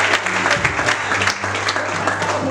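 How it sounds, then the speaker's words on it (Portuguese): A Pentecostal church congregation applauds at an anniversary celebration, a dense steady patter of clapping running the full length with a low hum and faint voices beneath. "Palmas para ele."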